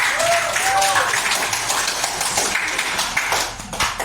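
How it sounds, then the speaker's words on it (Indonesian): Classroom applause for a classmate, a steady dense wash of clapping hands from a group, fading slightly near the end, with voices heard over it. "beri aplaus tangan dulu buat temannya"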